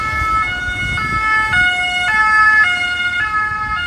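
An emergency vehicle siren wails loudly and close by, its pitch stepping between tones in a steady repeating cycle over low road rumble, with no one talking.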